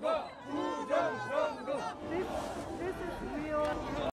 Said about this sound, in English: Very animated crowd.